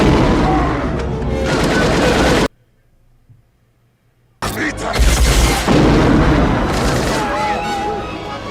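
Gunfire from the 1994 movie Stargate roars in loud, dense bursts, broken by a brief near-silent gap, with people talking over the shooting.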